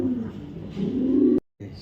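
A female racing pigeon coos in low, throaty rolls that swell and hold close to the microphone before breaking off abruptly, and someone speaks nearby over the sound.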